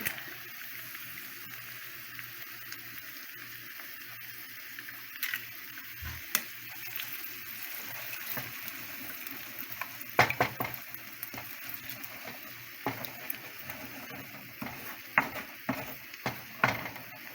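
Eggs sizzle quietly in a pan for fried rice, with intermittent scraping stirs and a few sharp utensil clinks against the pan, low and close with no talking.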